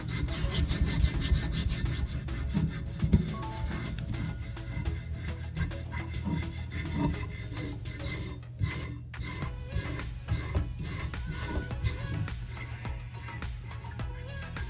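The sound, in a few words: rubbing a sublimation print off a tumbler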